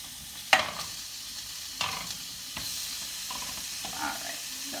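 Sausage cooking on a small burner under a grill press, with a steady soft sizzle broken by a few sharp clanks and scrapes of metal, close and moderately quiet, with no talk.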